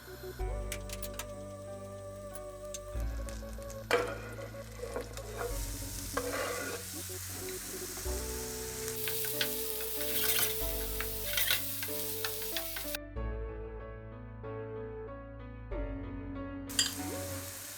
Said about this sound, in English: Add butter to the pan and fry the chopped onions.